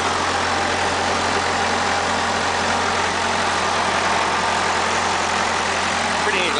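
A small tractor engine idles steadily throughout while wheat is unloaded from a red tandem truck, a constant close mechanical drone with broadband noise and no breaks.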